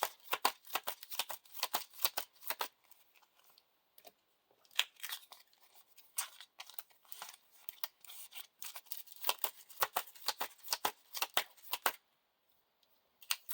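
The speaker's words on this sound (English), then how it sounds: "We have to shuffle these two into the" Cards for The Lord of the Rings card game are shuffled repeatedly in quick riffling bursts, crisp and close, with brief pauses between rounds.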